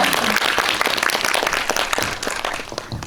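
An audience applauds steadily, many hands clapping together in a sustained round that tapers slightly toward the end.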